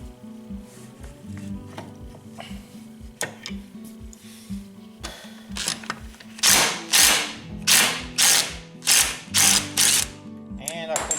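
A wrench tightens a bolt on the stator of a Yamaha Blaster ATV: rapid ratcheting clicks run close and steady, then give way to louder rhythmic grinding ratchet pulls, with no talk.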